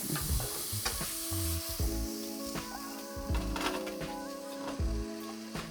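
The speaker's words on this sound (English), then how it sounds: "Okay, so cook this mushroom about 2 minutes." Mushrooms sautéing in a pot for vegetarian pho, a close sizzle with stirring clatter and scraping at irregular intervals, loud and without talking.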